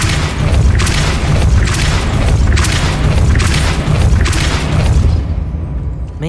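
Depulso spell impacts in the video game Hogwarts Legacy: a loud, sustained rumbling boom with repeated heavy thuds and crashing bursts, fading out abruptly near the end.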